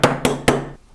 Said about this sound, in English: what I'm going to do is I'm just going to hammer that down